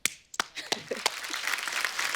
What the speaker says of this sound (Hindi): ये तालियां उस आदमी के लिए जिसके साथ आपकी शादी होगी